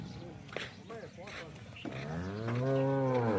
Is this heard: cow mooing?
yes